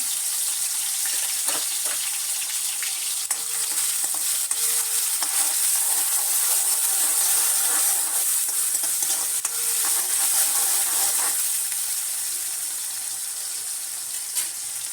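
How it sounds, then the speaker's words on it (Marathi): Onion and tomato fry and sizzle steadily in a hot kadhai, a continuous close hiss with faint stirring scrapes and no talk. "कढई तापलेली आहे तर त्याला आपण कांदा टॅमॅटो मी टाकलेलं आहे"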